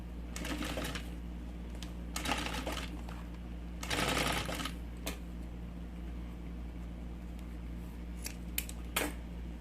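Sewing machine stitching a zippered triple pencil case, running in several short bursts with pauses between and a steady low motor hum throughout, plus a few sharp clicks near the end.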